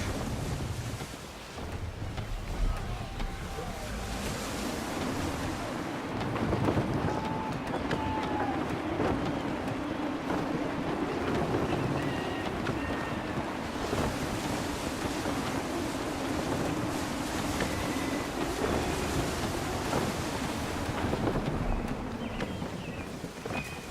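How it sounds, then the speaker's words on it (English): Gusty wind rushes steadily over the sea aboard a sailing ship in Assassin's Creed 3, a loud broad roar with water wash beneath and faint creaks, swelling slightly in the middle and holding for the whole stretch. "Gusty winds can be difficult to manage."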